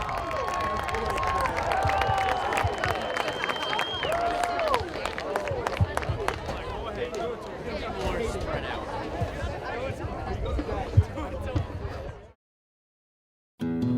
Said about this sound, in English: how about one last round of applause for our senior student athletes and extracurricular